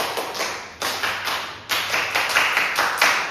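A group of fourth-grade elementary pupils in a classroom clap together in a rhythmic pattern, with loud, close, sharp bursts of clustered claps coming in quick groups and no talking.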